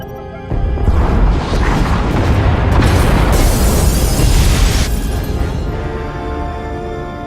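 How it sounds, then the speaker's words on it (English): Pod bays explode in a Star Wars: The Old Republic battle scene, a massive sustained rumbling blast erupting after a short lead-in, roaring loudly for several seconds with crackling debris before slowly fading. "Pod bays are destroyed."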